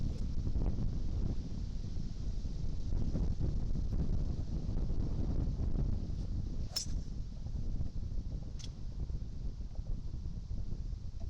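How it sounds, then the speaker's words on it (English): Strong wind blows across the Bowood Park golf course, buffeting the microphone with a constant low roar that stays steady and fairly loud throughout, with no talk. "Wind is strong into us."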